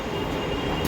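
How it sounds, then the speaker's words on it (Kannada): A Delhi Metro train pulls into a station, a steady mid-level rumble with a rising hiss of wheels on rail, and no one speaking. "ಡೆಲ್ಲಿ ಮೆಟ್ರೋ ಟ್ರೈ ಮಾಡಕ್ಕೆ ಹೊರಟಿದ್ವಿ"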